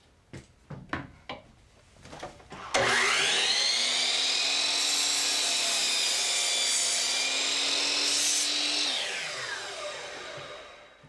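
A power saw cuts through four stacked wood pieces at once while building a wood arbor, a loud steady whine lasting about six seconds that spins down at the end, after a few sharp knocks of handling the boards.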